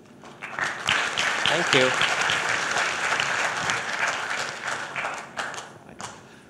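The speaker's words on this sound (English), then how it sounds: "So a round of applause for Addison." Conference audience applauding a presenter at a technical session, a loud sustained burst of many hands clapping that tapers off near the end, with a brief spoken voice over it.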